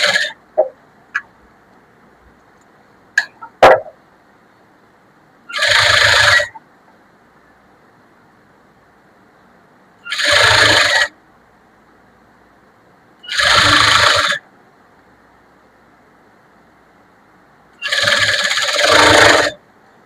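A sewing machine stitches the hem of a blouse in four separate bursts of fast, even needle whirring, each about a second or two long, up close with quiet gaps between them, after a few faint clicks and taps at the start.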